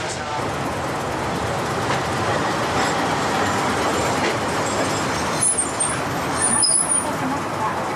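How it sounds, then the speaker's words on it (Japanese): Nagasaki streetcar running, a steady broadband rumble of the tram moving along its rails with some clanking and brief high squeals near the end, heard from close by with faint voices in the background. "移動には路面電車を使いました。"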